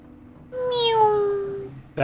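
A cat meows once, a clear falling tone about a second and a half long, close and loud in a quiet room, followed by a brief sharp noise at the end.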